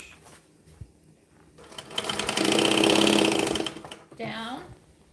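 A sewing machine back stitches a bag seam in a fast, rattling burst that rises and then fades, with short bits of voice before and after.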